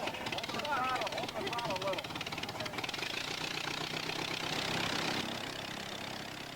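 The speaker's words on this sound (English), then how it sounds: "a Ford Model T engine is being fired up for the first time" A Ford Model T engine, fitted to a Pietenpol homebuilt airplane at an airport, fires up and runs with a loud, rapid, rattling chug, while a voice talks over the noise.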